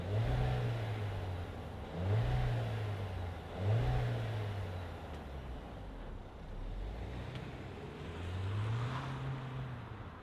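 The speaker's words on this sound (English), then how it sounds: "let's fire up this four banger and hear what it sounds like" A 2025 Volkswagen Taos SE's 2.5-liter inline four revs repeatedly, with short rising blips in quick succession, then a pause and a final rev, heard at moderate distance over a steady idle.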